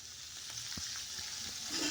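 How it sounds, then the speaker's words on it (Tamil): Small onions, dried chilies, curry leaves, garlic and spices fry for a manathakkali kai kuzhambu, a faint, soft, continuous sizzle with a few light scrapes, quiet and distant. "மணத்தக்காளி காய் குழம்பு வைக்கிறதுக்கு வறுத்துட்ருக்குறேன்"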